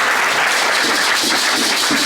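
A church congregation breaks into loud, dense applause, many hands clapping together in a steady wash of sound without pause.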